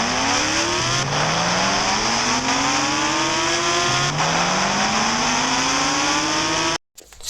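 A Kawasaki H2R motorbike engine in an Indian bike simulator game revs hard through rising pitch sweeps with gear shifts, loud and continuous, then cuts out abruptly near the end.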